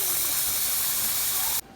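Water pours steadily over basmati rice as it is rinsed of its white starchy residue, a close, continuous hissing spray that stops abruptly just before the end.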